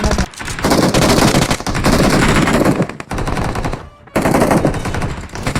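Loud, close automatic gunfire on the Erangel map in PUBG Mobile, long rapid bursts broken by short pauses, with no talking.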